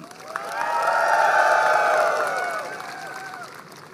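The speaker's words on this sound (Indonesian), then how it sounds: "Tepuk tangan." Crowd at a Bangkule Rajakng Dayak customary gathering in Pontianak applauding and cheering, a broad swell of clapping and voices that builds over the first second, holds steady, then gradually fades.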